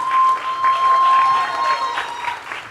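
An audience at an award ceremony bursts into loud, sustained clapping that holds for the whole stretch, swelling slightly before easing, with no voices over it.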